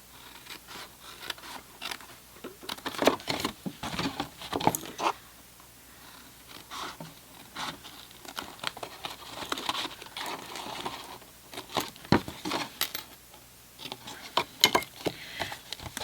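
Paper pieces for a drop front gift box are trimmed, giving close, quiet snips and crinkly paper rustles in irregular bursts, with no talk.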